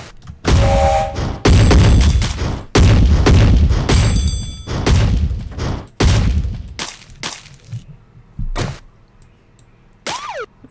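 Cartoonish blasts and crashing impacts from the Burrito Bison video game, several loud bursts in quick succession with short gaps, then fading into quieter thuds and a rising boing near the end.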